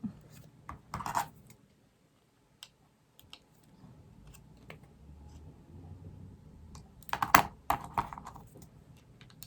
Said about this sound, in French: Alors, on coupe l'excédent.